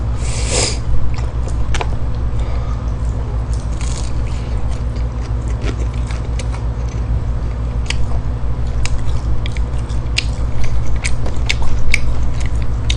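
Biting and chewing of BHC boneless fried chicken in hot and regular sprinkle seasoning, close to the mic: a continuous run of crunchy bites and wet chewing over a steady low hum, with no talk.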